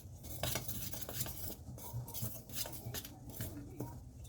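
Spices and gram flour are mixed dry in a bowl for bhajia batter, giving quiet, close scraping and rubbing strokes of a spoon against the bowl with soft patter throughout.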